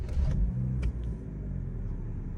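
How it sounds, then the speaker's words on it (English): A 2014 Dodge Dart with a 2.4 L MultiAir engine after valve actuator brick replacement, heard faintly as a low, steady idle rumble with a brief start-up surge near the beginning and no talking. "start the engine."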